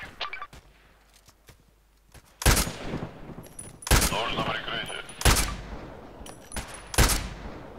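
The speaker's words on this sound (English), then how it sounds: "Blind shooting." Sharp gunshots ring out in the video game Contract Wars. Faint pops come first, then four loud bursts spaced a second or so apart, with a brief sustained volley in between.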